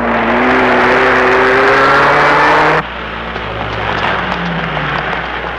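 A damaged Ferrari race car engine roars at high revs, a loud steady drone with a sharp drop in pitch and level midway, then a rougher, quieter running note.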